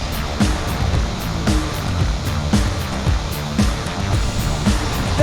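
An Arrma Mojave RC car, running with heavier springs and differential oil, races at speed outdoors near water, giving a steady loud rushing roar with periodic bursts throughout.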